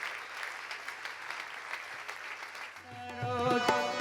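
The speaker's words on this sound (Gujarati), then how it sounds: "જોરદાર તાળીઓના ગળગડાટ સાથે આ પ્રસંગને વધાવીશું" A large crowd at a Hindu mandir grand opening celebration in Kingsbury bursts into sustained, dense applause for nearly three seconds, then music with sustained tonal notes swells in over the clapping.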